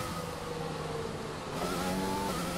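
A Ferrari Formula 1 race car in F1 2020 at the Hungarian track during practice, its engine whine holding steady then rising in pitch as it closes in from behind. The roar is loud and continuous, with no talk over it.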